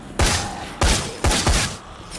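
Gunfire from a split-shot weapon in the video game Dead Rising 4, four heavy booming blasts with ringing tails, the last two close together, loud and near with no talk over them.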